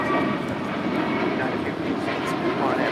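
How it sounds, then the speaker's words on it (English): An American Airlines A321neo airliner roars on departure from the runway, a dense, steady rumble of engine noise that fills the whole stretch at close range. "This is American Airlines 1966 departing to Charlotte on an A321neo."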